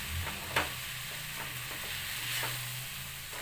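Chilli powder and salt are stirred into a cluster bean (gori kayi) vegetable palya in a pan: faint, soft scraping strokes over a low sizzling hiss, quiet and close, with no speech.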